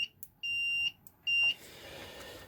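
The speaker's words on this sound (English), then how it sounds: "using a multimeter, just on a diode test, so a continuity test" Multimeter set to diode/continuity test on a Celestion Ditton 25 speaker crossover, giving clear high-pitched electronic beeps: a short one, then two longer sustained tones close up, followed by faint room noise.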